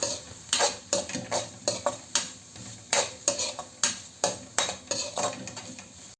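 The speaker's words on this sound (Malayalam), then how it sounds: "ഇതിലേക്ക് 2 പച്ചമുളകും കൂടി കട്ട് ചെയ്തിട്ട് കൊടുത്തിട്ട് ഒന്ന് ഇളക്കി കൊടുക്കാം." Onion and green chillies are stirred and sautéed in a pan, with a spatula scraping and tapping the metal in a steady rhythm of sharp, close strokes over a quiet sizzle.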